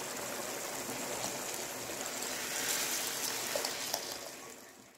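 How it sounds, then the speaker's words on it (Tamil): Homemade country chicken stock is poured into a pot of rasam, giving a steady trickling, splashing stream of liquid that swells slightly midway and fades toward the end, close and moderately loud with no talking. "இது நாட்டுக்கோழி அந்த தண்ணியும் ஊற்றியாச்சு."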